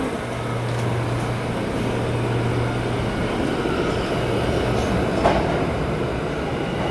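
A New York City subway R160 E train runs along the 8th Avenue line, a loud, steady rumble of rolling wagons with a sustained low hum and faint wheel squeal, close by and without speech.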